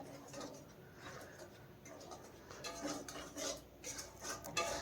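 Cashew paste stirred into broccoli curry, a spoon scraping and tapping the pan in soft irregular strokes, quiet and close, with a pigeon cooing faintly in the background.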